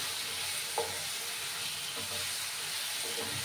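Baingan bharta being stirred and mixed in a hot pan, a steady sizzle and frying hiss with light scraping of the spoon, heard close up and without any talking.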